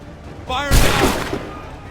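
Musket volley in Assassin's Creed 3 Remastered on Xbox One, a single loud crackling blast right after a shouted command, decaying quickly into ambient battle noise.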